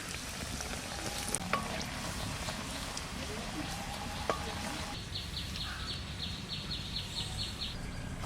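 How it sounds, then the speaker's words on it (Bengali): Potato french fries frying in hot oil, a steady broadband sizzle running throughout with small pops and crackles, close and moderately loud, while a voice speaks at times over it. "অল্প অল্প করে ছাড়বো আর ভাজবো"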